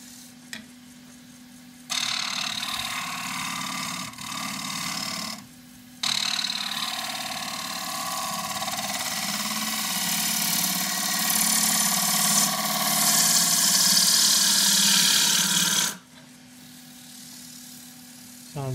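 A wood lathe spins a loquat bowl being re-turned at about 1200 rpm, a steady motor hum with a loud, rough cutting rasp that swells and stops in bursts, then drops back to the quieter whir.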